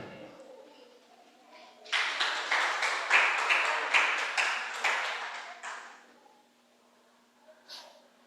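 A congregation at a church service bursts into applause, a dense burst of clapping lasting about four seconds before fading out, with a faint voice afterward.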